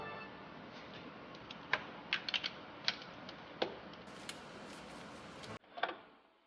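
Valve cover nuts on a BMW F10 535i's N55 engine being loosened with a 12mm socket: scattered clicks and ratcheting ticks over a quiet background hum, close and fairly soft.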